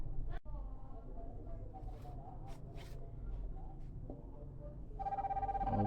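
Huafit Watch Metro 2 smartwatch ringing with an incoming Bluetooth call: a steady electronic ringtone starts near the end, loud and close, over a noisy room with faint bird or rooster calls.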